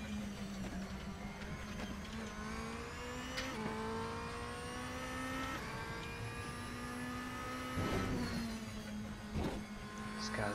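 A race car engine in the RaceRoom video game drones steadily with a whining, harmonic-rich tone, its pitch rising and dipping through gear changes and cornering, alone without talk.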